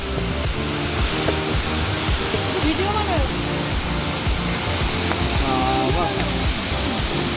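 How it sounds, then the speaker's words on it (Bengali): Changey Falls, where water drops from about 300 feet, roars in a loud, unbroken rush close by. Voices briefly rise above the steady wash of falling water. "দেখো 300 ফিট উপর থেকে জল পড়ছে"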